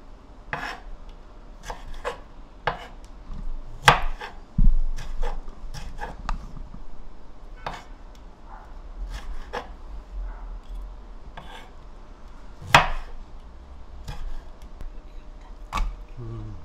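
A knife slicing vegetables on a board: a string of crisp, close cuts and taps arrives in irregular bursts over a quiet low hum, with a few louder knocks of the blade meeting wood and no voices.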